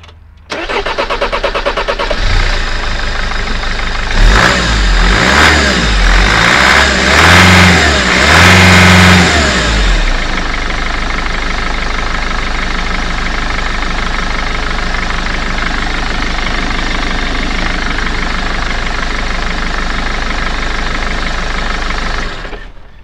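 A 2004 Mercedes Sprinter 311 CDI diesel van engine cranks, catches and revs a few times after a fuel filter change, then settles into a steady, close, loud idle with no talk.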